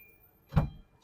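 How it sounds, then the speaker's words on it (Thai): The door of a 2016 Isuzu D-Max 1.9Z pickup opens with a single short, quiet clunk, followed by a faint tick afterward. "เปิดประตูด้านนี้ให้ดูหน่อยนะครับ"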